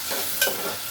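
Onion frying with tomato sauce, ketchup and puree stirred in, a brief close hiss of sizzling with a single scrape of the spoon.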